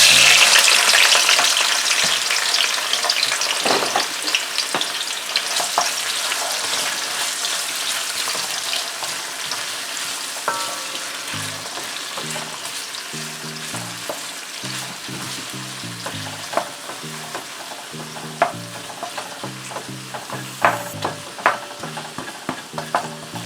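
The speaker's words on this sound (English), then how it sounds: "I'm putting in my vegetables in the pot and I'll saute them" Vegetables sauteing in a pot on a stove, loud steady sizzling and frying at first that gradually settles, with occasional stirring clinks and scrapes near the end, no talking.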